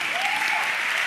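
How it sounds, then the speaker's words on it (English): Debate audience applause, a dense, loud burst of many hands clapping from a crowd, filling the whole short moment without a break. "made a point which drew a resounding applause from the crowd"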